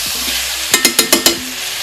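A spoon stirs a pot of kimchi soft tofu stew with soy sauce and fish sauce just added, giving five quick, evenly spaced scrapes over a soft background simmer.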